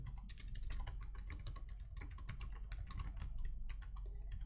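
Steady, fast typing on a computer keyboard while writing a LaTeX document, close and fairly quiet crisp key clicks in an uneven rhythm with no talking.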